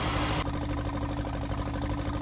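Tractor engine in the farming game Farming Simulator 19, a race tractor pulling a hay ride at a circus, running steadily with a continuous droning hum; a brief louder burst at the start, then an even engine tone throughout.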